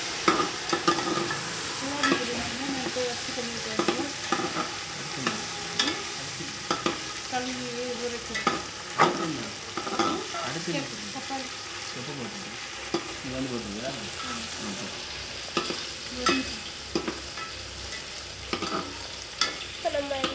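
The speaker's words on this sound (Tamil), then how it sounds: "இப்போ நம்ம எல்லாமே வதக்கிடலாம்" Mutton biryani masala is stirred and fried in a pan, giving a steady close sizzle with repeated scraping and stirring strokes throughout and no talking.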